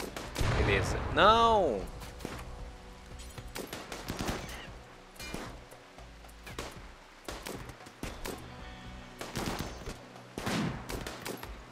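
Gunfire from a Rimworld battle, including sniper rifle shots, crackles as sharp repeated bursts scattered through the clip, with excited voices talking over the action.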